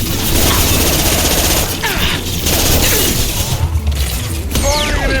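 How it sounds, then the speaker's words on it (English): Gunfire and an impact shot in the video game Mass Effect 2: loud, dense bursts of weapon fire with sharp, shattering impacts and sweeping effects, close and continuous, with a little speech mixed in. "Firing an impact shot!"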